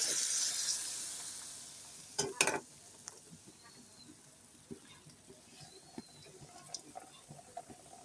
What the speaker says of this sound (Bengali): এরকম করে ভাজি করে শিরার মধ্যে দিতে হবে।